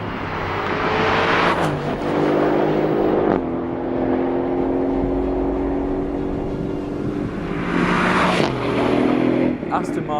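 A 2018 Aston Martin Vantage accelerating on Moroccan roads, its engine note rising steadily through the gears with sharp upshift breaks, loud and close with a continuous rumbling drone.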